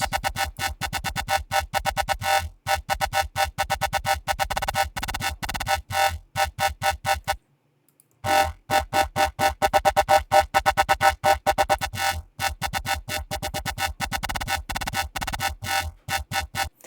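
A buzzy Serum dubstep synth bass repeats a steady pulsing pattern, its tone hollowed by a notch filter cut, with one brief silent gap midway.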